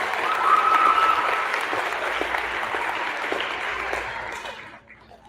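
A crowd claps steadily at a sixth-grade school awards assembly, fairly loud and even for several seconds, then tapers off and fades near the end.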